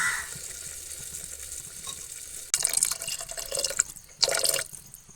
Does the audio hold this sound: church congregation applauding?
no